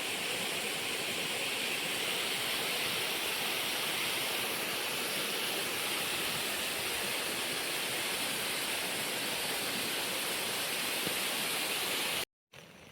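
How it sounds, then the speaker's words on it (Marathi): Water pouring down over rocks from a waterfall in a farm field during heavy monsoon rain, a steady, broad rushing roar close by that cuts off abruptly near the end, no voices. "आता हे खडकावरून पाणी पडतं खाली"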